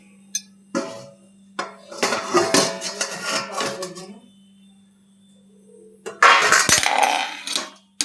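Lid set back on a cooking pot of simmering stalks over a low gas flame, a few short metallic clinks and clatters between stretches of someone talking, with a steady low hum underneath.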